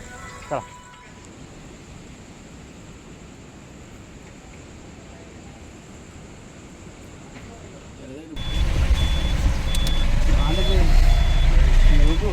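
A truck backs out along a narrow road, its steady reversing beeper repeating over engine rumble that swells louder in the final seconds.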